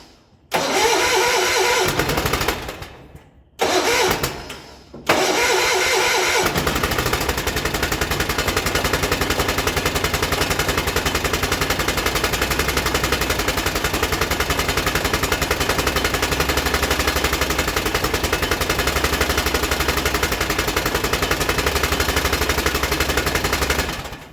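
Kohler K532 engine on a 1975 John Deere 400 tractor, running on one cylinder, cranking in a few loud bursts with short gaps, then catching into a steady, rough, sputtering loud run close by.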